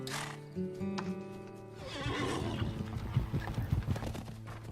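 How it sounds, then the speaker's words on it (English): A horse neighs loudly, then hooves pound rhythmically in a fast gallop close by. "The power of these horses is hard to comprehend."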